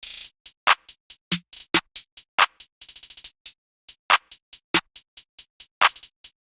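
Trap drum beat pairing a bouncy hi-hat with a clap and counter snares: bright, close ticking hats with quick rolls, punctuated by sharper clap and snare hits, steady and alone without voices.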